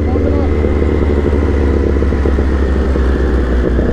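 A Kawasaki ZX6R KRT sport motorcycle rides along, its engine a loud, steady drone mixed with heavy wind rush throughout.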